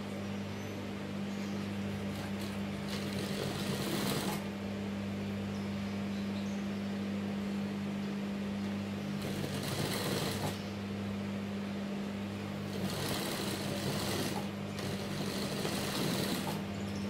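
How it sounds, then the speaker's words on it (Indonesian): Sewing machine stitching fabric for waist and bust darts, a faint steady motor hum with bursts of rapid stitching that start and stop several times. "Lalu kita jahit sesuai dengan ininya ya, yang kita lebihin ya."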